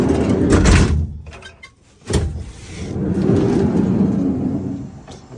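The sliding side door of a RAM Promaster van rolls and slams shut with a loud, close heavy thud, followed by a second sharp knock and a rumbling rattle afterward.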